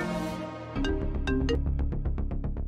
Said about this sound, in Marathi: साहेबांचा फोन आहे.